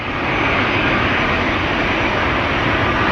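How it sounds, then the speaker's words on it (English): An Airbus A220's engines roar during a rejected takeoff, a loud, steady, broadband jet rumble that holds without a break, with no voices. "This Airbus A220 rejected its takeoff 3 times, allegedly due to engine issues."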